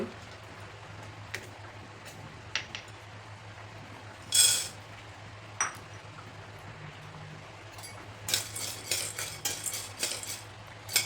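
Moong dal being roasted in a pan is stirred with a metal spoon, giving sparse scrapes and clinks against the cookware, one sharp bright knock midway, then a faster cluster of rattling strokes near the end.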